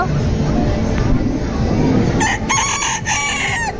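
Several rooster-like crows ring out in quick bursts over background chatter and noise, sounding like a person mimicking the call.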